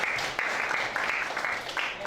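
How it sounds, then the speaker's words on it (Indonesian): A class applauds a student group during a maths lesson: steady, close clapping from many hands fills the whole short stretch at moderate loudness. "Tepuk tangan buat kelompok saya dan Nena."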